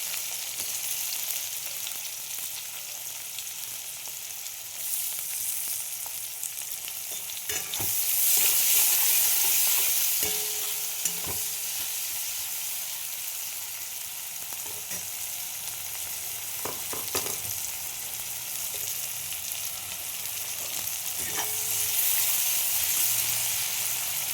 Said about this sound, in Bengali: এবার আমি এই তেলের মধ্যে পেঁয়াজ দিয়ে দিলাম